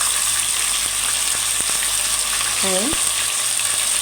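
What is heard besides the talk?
onion frying with meat in a pot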